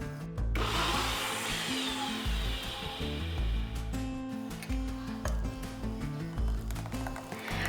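An electric mixer-grinder blending poppy seeds, tomato, green chilli and a little water into paste, a loud steady whirring with the motor labouring and pulsing in short bursts.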